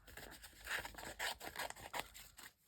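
Scissors cutting out paper doily decor for a junk journal, a series of close, crisp snipping and scraping strokes in an irregular rhythm, alone without talk.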